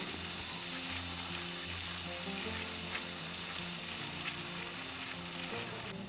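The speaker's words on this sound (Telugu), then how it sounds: "ఈ బోండాలని అన్ని వైపులా తిప్పుకుంటూ ఫ్రై చేసుకోవాలి." Banana bondas, sweet banana balls, fry in hot oil in a kadai, giving a steady, dense sizzle that stays loud and even throughout with no voices.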